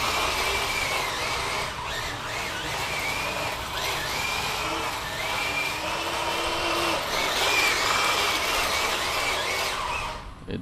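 An RC Ripsaw drift tank with metal tracks drifts across a smooth surface, giving a continuous clattering, ratcheting whir of tracks and a small motor that stays steady and fairly close throughout.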